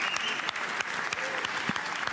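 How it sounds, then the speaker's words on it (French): Dense, continuous applause fills a large ceremony hall as Lamine Yamal is honored at the Ballon d'Or, steady clapping from a big crowd for a couple of seconds with no talk over it. "Un tonnerre d'applaudissements pour lui."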